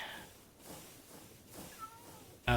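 A cat meows in a few short, moderately faint calls spaced across a quiet background, ending in a sudden louder burst.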